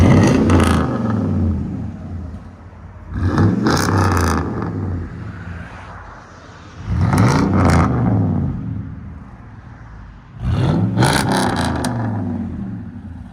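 Dodge Dakota pickup with a 4.7L V8 and a raspy straight-pipe exhaust through an X-pipe, loud and close, revved in four strong bursts about three seconds apart, each settling back to a rumbling idle between them.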